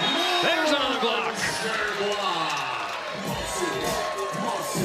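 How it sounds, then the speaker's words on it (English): Crowd cheering and whooping at a beach volleyball semifinal after a big block at the Manhattan Beach Open, a broad roar from a sizable outdoor audience with a commentator's voice running over it throughout. "Cool to see the crowd getting into the monster block."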